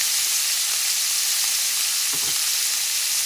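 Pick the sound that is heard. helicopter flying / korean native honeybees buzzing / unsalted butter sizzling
unsalted butter sizzling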